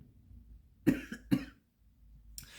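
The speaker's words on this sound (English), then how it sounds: "I just had to cough." A woman coughs twice in quick succession, close and fairly loud, followed by a faint breathy sound in a quiet room.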